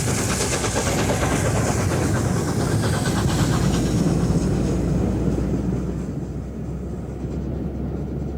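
The Mallard steam locomotive pulls out of Skipton heading north, a loud rolling rumble with rhythmic chuffing and wheel clatter that slowly eases as it moves away.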